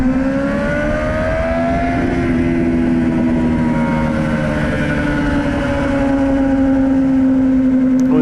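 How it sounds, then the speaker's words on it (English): Motorcycles on a winding road trip run in second gear, a steady loud engine drone with a rising and falling pitch as the bikes pass close by, with no speech. "It's just easy that you can go for a pass in second gear on one of these bikes"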